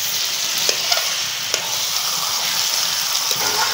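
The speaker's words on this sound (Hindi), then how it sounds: "ये मैं इसको भूनूंगी अच्छी तरह।" Gajar ka halwa roasting with nuts in a kadai gives a steady broadband sizzle, with a few soft scraping stirs and clicks of the spoon rising briefly above it, close and continuous with no talking.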